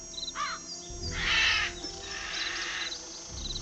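A crow caws repeatedly in the Nancy Drew video game The Ghost Dogs of Moon Lake, harsh calls standing out over a steady ambient game background with faint chirps.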